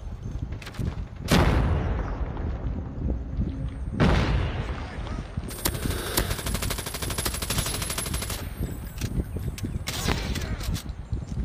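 Gunfire and a grenade explosion from the Call of Duty Mobile video game: two heavy booming blasts come with loud, dense automatic weapon fire. Rapid bursts of shots carry on between the blasts, and battle noise fills the whole clip.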